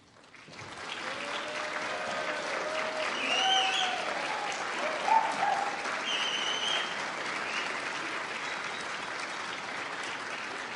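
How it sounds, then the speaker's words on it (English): A university graduation audience in a large hall breaks into sustained applause, swelling from quiet to a dense, steady roar of clapping with occasional cheers and whistles, continuing for several seconds. "Dr. Calvert, do you think that was a good enough round of applause?"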